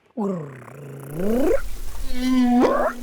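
A person imitates a whale vocalization with long, sliding moaning tones that bend up and down, alone and fairly close, ending on a rising call.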